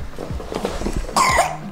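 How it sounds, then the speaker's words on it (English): A young child coughs nearby in a short cluster of several quick, light coughs, with the last one louder and harsher before it cuts off. "She's got a little bit of a cough at the moment as well."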